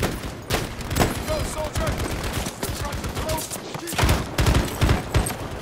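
Gunfire in Battlefield 5 on the Pacific front, dense rapid shots and rattling automatic bursts, loud and close, with brief pauses between volleys.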